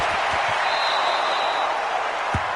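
A loud stadium crowd in a PS4 American football video game, a constant dense roar of cheering and noise with a few low thumps underneath.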